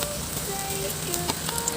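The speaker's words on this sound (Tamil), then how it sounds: "இப்போ நம்ம ஒவ்வொரு பால்ஸாக உள்ளே போட்டுடலாம்" Noodle balls frying in hot oil in a home kitchen for noodle lollipops, a steady bubbling sizzle with faint crackles and occasional tonal whistles in the background, no talk.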